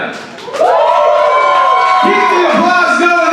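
Crowd at a poetry slam in Dayton, Ohio, cheering and whooping, loud and close, a sustained roar that swells after a brief quieter opening, with voices calling out over it.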